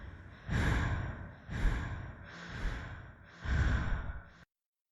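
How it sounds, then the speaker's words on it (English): Slow, heavy breathing up close, four deep breaths in a steady rhythm, each a long airy rush with a sighing quality, then silence. "Until she soon heard the sound of someone else breathing."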